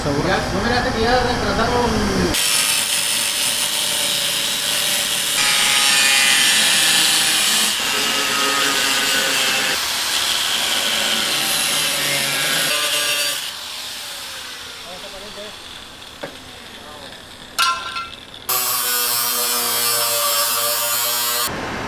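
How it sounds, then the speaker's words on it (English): A saw cutting an exhaust hole in a truck's bumper, loud close buzzing and grinding in long sustained runs broken by brief pauses, with tonal whine shifting as the cut proceeds. "get to cutting with the saw"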